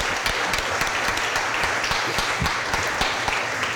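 An audience at a city board of aldermen meeting applauds in a dense, steady round of clapping that holds at an even level throughout.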